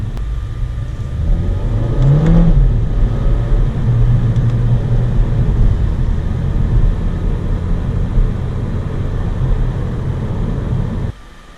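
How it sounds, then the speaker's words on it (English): A 2022 Audi A3 S line pulls hard through first and second gear on a night drive, its engine note rising sharply, then holding a loud, sustained roar until it cuts off abruptly. "first, second gear in this has got quite a nice sound to it."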